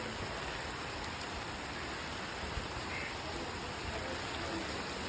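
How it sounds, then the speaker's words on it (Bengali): Heavy rain pours down steadily as a dense, even hiss with no breaks, continuous and moderately loud, with no voices. "বৃষ্টিও জোরে চলে এসছে"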